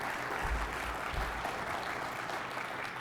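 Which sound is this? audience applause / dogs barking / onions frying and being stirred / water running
audience applause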